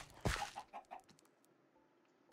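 Minecraft chickens give a few quick soft clucks in a row, faint and close, followed by quiet.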